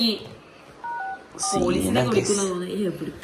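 A handful of short electronic beeps from a phone keypad dialing an emergency number, then a voice starts talking close by.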